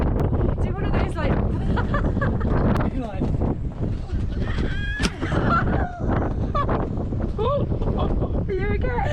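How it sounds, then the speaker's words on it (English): Strong gusting wind buffets a microphone aboard a sailboat anchored in a poor-holding Cycladic anchorage, rumbling loudly and continuously, while voices talk over it. "It is super windy and we are anchored in a Anchorage that doesn't have that great holding."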